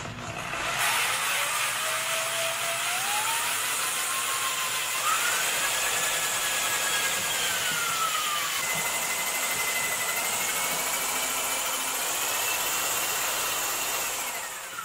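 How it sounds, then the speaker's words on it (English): A drill spins a degassing wand through orange mead to aerate it, giving a steady, loud whine with a rising and shifting pitch that holds continuously for the whole stretch, with no talk over it. "I got a degassing wand and I have attached it to my drill."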